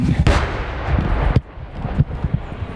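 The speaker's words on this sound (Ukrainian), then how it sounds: "Близькі вибухи трохи нервують телеоператора" Several loud, close booms of artillery fire near enemy positions in Pokrovsk, a heavy blast near the start and sharper cracks following, with rumbling between them.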